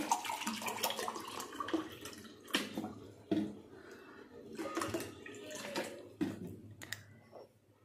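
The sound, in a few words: pouring a cup of water for cooking rice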